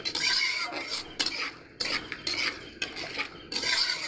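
Masala for malai katla frying in a pan over a high gas flame while being stirred: rhythmic scraping and clattering of a spoon in bursts over a bright frying hiss, close up.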